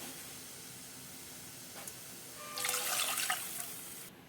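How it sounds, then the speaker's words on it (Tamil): Soft running water hisses steadily, then swells into a brief louder splashing pour before cutting off; no talking. "ரெண்டு கப் அளவுக்கு நான் தண்ணி சேர்த்துக்கிறேன்"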